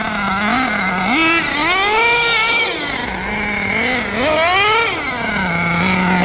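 A nitro-powered HPI Savage X4.6 monster truck engine revs loudly and continuously, its pitch sweeping up in two big surges and dropping back toward a steady high idle, heard close with no talking.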